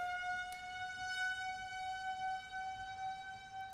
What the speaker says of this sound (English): Tornado sirens are going off here.